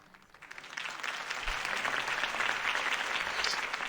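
Loud crowd applause in the video game Batman: The Telltale Series builds over the first second, then holds as a dense, steady roar of clapping.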